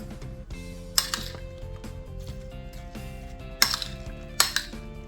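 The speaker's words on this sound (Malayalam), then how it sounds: "ഇനി നമുക്കിതൊക്കെ ഒന്ന് മിക്സപ്പ് ചെയ്തെടുക്കാം" Apple and cucumber salad tossed with salt in a bowl, giving soft scattered clinks and taps of utensil against the bowl, with a few sharper knocks standing out, close by and with no talking.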